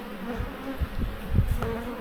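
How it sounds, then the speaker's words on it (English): Honey bees buzz around a hive that recently swarmed, a close, steady drone with a few louder passes as individual bees fly near. "Bees look good. They're doing great."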